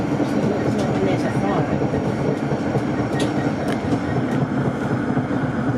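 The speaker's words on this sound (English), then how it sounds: "The tiny bit of tram spotting at the light rail." An A Class tram runs along the St Kilda light rail, giving a steady, loud rolling rumble with faint clicking from the wheels throughout, and some voices come in under the noise.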